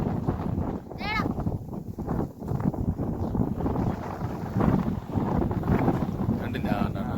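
Strong gusts buffet the microphone in rough, uneven surges for the whole stretch, mixed with voices talking close by.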